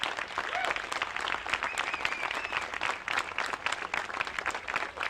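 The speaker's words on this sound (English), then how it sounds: "You deserve a round of applause," A round of applause for Fritz Zimmerman at a museum opening, a full crowd clapping steadily and close by, with faint voices and a whistle rising through the noise.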